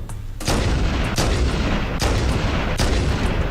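Heavy booming shots from a sniper rifle in Halo Anniversary, four or so loud reports spaced under a second apart over a constant roar of battle noise.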